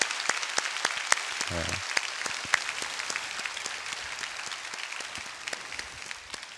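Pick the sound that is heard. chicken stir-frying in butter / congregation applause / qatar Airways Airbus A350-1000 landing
congregation applause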